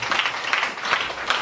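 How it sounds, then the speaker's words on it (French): A church congregation applauding during a sermon, steady clapping from many hands with a few louder swells, close and continuous for about a second and a half. "Acclame pour ceci."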